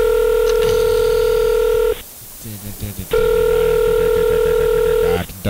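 A telephone ringing out on a call: two long, loud ring tones with a short gap between, with people talking faintly during the pause.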